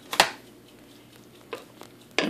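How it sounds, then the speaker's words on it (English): A utensil scrapes and knocks against a cooking pot while spaghetti is stirred: three short, separate clinks spaced across the moment, fairly close and quiet, with no talking. "I have to stir. This is going to be spaghetti."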